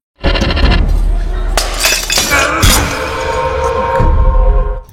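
Glass bottles smash during a riot in an Indian film, a loud continuous crash of shattering glass and clatter filling the whole moment, chaotic and close, with voices mixed in.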